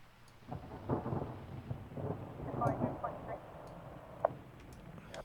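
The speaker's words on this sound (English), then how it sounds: "the thunder's going to be quite a rumbly thing going on" A thunder sound sample used in music production rumbles low and steady with rain-like texture and faint ticking, fairly quiet and sustained across the whole stretch.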